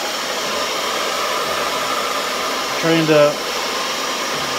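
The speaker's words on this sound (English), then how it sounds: "We got a hair dryer going down there." A hair dryer blows with a steady, close whooshing hum while warming a frozen water hose, and a person briefly speaks over it.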